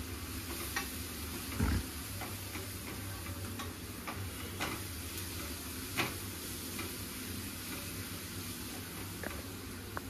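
Onion and chopped coriander frying in a pan and being stirred for a dal khichdi, a quiet steady sizzle with a few soft scraping knocks of the spoon, no talking.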